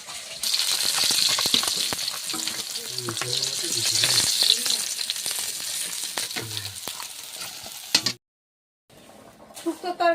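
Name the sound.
fish frying in a pan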